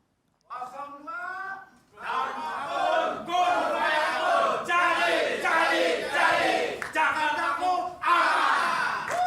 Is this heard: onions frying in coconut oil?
no